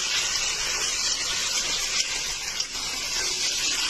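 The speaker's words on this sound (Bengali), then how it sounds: "এই যে এদিকে গরম জল, কারণ মাংসতে গরম জল না দিলে না" Hot water gushes from a vessel into a pot of mutton curry, a loud, continuous close splashing pour with a hissing edge, heard alone.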